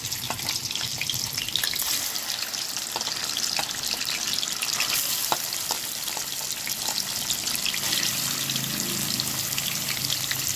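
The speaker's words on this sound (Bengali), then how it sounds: "তেলটা গরম হয়ে গেছে আর পনিরগুলো দিয়ে দিচ্ছি।" Paneer pieces fry in hot oil, a dense continuous sizzle with crackling pops steady from start to finish, close and fairly loud with no voices.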